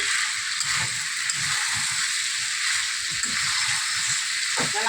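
Duck meat and fried potatoes sizzle steadily in a pan, a loud continuous frying hiss with occasional soft stirring scrapes, close and without speech.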